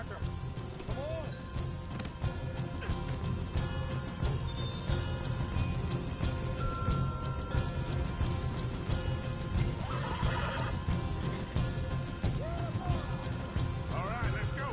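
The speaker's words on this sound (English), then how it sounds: "Looky here, you get them horses free, Barker." Horses neigh in Red Dead Redemption 2, played on a PS4 Pro, with whinnies rising over a dense, steady bed of game noise, hoofbeats and character voices throughout.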